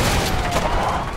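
Dense, rapid gunfire fills a short moment of the co-op video game A Way Out, loud and continuous with no voices.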